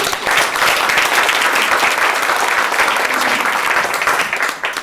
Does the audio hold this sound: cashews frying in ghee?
no